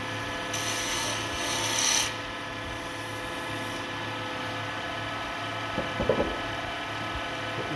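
Sanding a Beaufort Ink Headwind pen kit on a lathe, heard as a steady rubbing rasp over a continuous motor hum, with a brief louder scrape near the start and small knocks later, and no talking.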